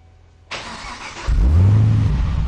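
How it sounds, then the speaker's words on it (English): Supercharged LS9 V8 in a 2010 Camaro cranking with a starter whir, then catching with a loud, deep rumble and settling into a heavy, lumpy idle, close up. "Larry, start it up and let them see what it sounds like"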